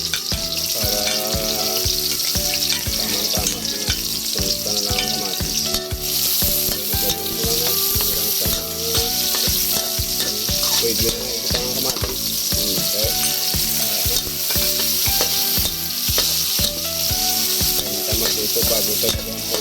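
Sliced onions frying in a hot pan, a loud, steady, close sizzle that runs unbroken throughout, with occasional stirring scrapes and background music underneath.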